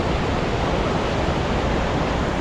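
A waterfall on the route to Kedarnath roars as a dense, continuous rush of water, loud and close, filling the air with no voices over it.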